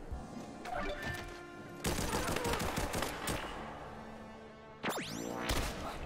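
Rapid gunfire in the Rollerdrome video game, a dense rattling burst followed by a second volley and a swooping effect, loud over a tonal music bed.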